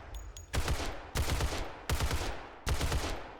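Gunfire from the strongest gun in the survival video game 7 Days to Die: four loud, heavy shots in a steady rhythm, each ringing out briefly before the next, with no talking.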